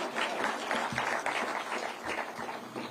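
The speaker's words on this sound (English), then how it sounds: "So we need to give that Jogoo a round of applause." An audience claps at a Ministry of Environment launch ceremony, a short burst of dense, lively applause from a crowd with no talking.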